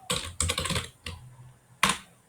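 Close, clattering keystrokes on a computer keyboard arrive in a few quick bursts and single taps with short pauses between them, and no voices.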